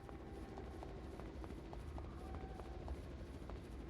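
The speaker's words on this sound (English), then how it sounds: "that's going to be the helicopter that went off without us to save Paige Meyer." A helicopter flies in the video game Raw Danger, a faint, steady rotor drone with a low rumbling wash and light ticking, heard alone without talk.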